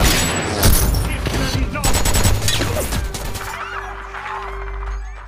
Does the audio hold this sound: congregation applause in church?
no